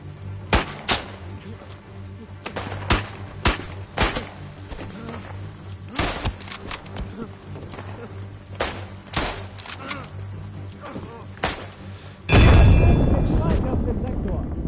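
Rapid gunfire in the World War I shooter game Isonzo on the Italian front, many sharp shots in irregular bursts with a louder blast near the end, while players talk over it.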